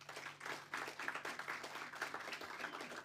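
Applause from an audience at a customer relationship management solution launch in South Africa, a steady moderate patter of clapping filling the whole moment with a faint low hum beneath.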